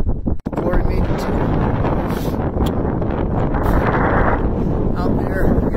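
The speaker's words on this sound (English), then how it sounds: "Hopefully you can hear me. It's kind of windy up here." Strong wind buffets the microphone on the summit of Mount Sherman, a loud, continuous roaring rumble with gusty swells throughout, and a person talks underneath it.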